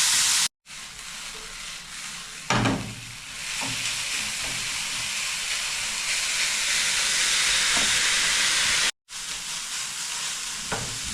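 Ground beef simmers and fries in a pan with a loud, continuous hiss and sizzle, marked by one brief clatter of a utensil early on.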